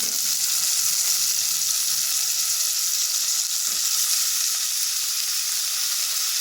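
Onions, green chillies and tomatoes sautéing in a pan for chicken curry, a continuous bright sizzle with soft intermittent stirring, steady and close with no talking.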